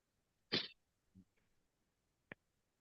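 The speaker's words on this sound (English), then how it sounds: "It was a cough" One sharp, sneeze-like cough bursts out close by in a quiet room, followed by a couple of faint, small noises.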